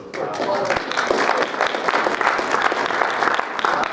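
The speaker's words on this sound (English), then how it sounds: "give yourselves a round of applause too" University panel audience clapping for themselves, a loud, dense round of applause filling the room, with some voice mixed in beneath the claps.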